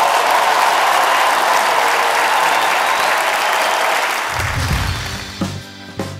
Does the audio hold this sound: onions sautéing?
no